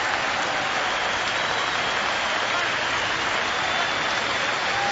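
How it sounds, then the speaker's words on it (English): Applause from a cricket crowd at a Test match between India and South Africa in Cape Town, 1997, a dense, steady roar of clapping that fills the whole stretch without a break. "Generous round of applause for the Indian captain."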